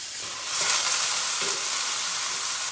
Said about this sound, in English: when the cumin seeds turn nice darker brown in color, I'm going to add the onion